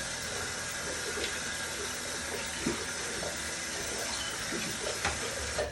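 Tap water runs steadily as someone washes their face, a continuous hissing splash with a few small knocks and drips over about six seconds, no voices.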